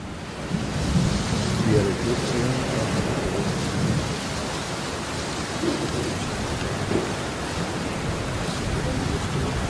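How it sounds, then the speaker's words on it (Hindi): Heavy rain pours down outside a mountain hotel, a dense steady hiss with low rumbling underneath that holds without a break at even loudness. "बाहर जो है फ्रेंड, झमाझम बारिश हो रही है"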